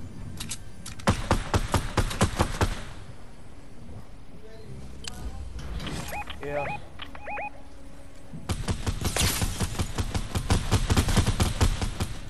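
Rapid gunfire from the video game Fortnite, with bursts of sharp repeated shots early on and a dense volley near the end, plus scattered game effects in between; no talk is heard over it.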